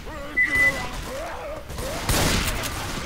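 Burst of rapid gunfire from the video game Left 4 Dead 2, a dense fusillade with a crash, heard under game ambience and faint voices.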